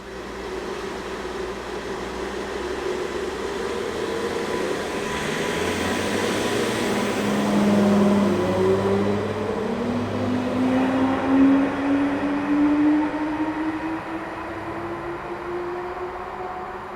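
Class 230 DMU train moving at Upton Station on the Borderlands Line, a steady mechanical rumble that swells as it passes, with rising engine tones and a constant background hum throughout, no voices.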